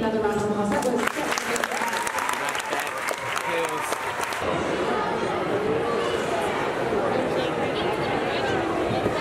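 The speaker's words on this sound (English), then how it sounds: "Need another round of applause." Applause from an audience at a gathering, dense clapping throughout with crowd chatter mixed in, brighter and busier in the first few seconds before settling into a steady wash.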